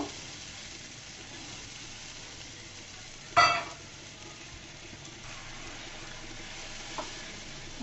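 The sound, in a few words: spice paste sautéing with onions in oil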